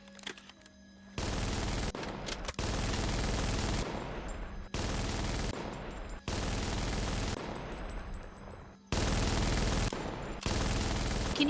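A warship in a video game pours out heavy weapons fire in several long, loud, sustained barrages, each lasting a second or two, separated by brief lulls.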